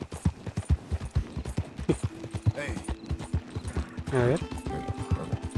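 Horse hooves clip-clopping in Red Dead Redemption 2, a steady rhythmic run of close hoof beats with a brief whinny partway through, while someone speaks over it.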